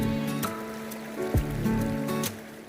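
Water in the Nehalem River, Oregon, streams and trickles close by in a steady wash, broken by a few brief splashes and knocks as someone moves through the shallows.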